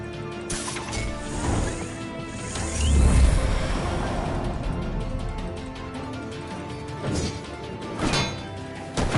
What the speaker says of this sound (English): You broke the cage.